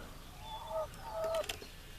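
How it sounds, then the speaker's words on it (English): Two pet birds kept in a garden give a few soft, brief calls and chirps, close by and fairly quiet over faint outdoor background noise. "These are 2 of my birds."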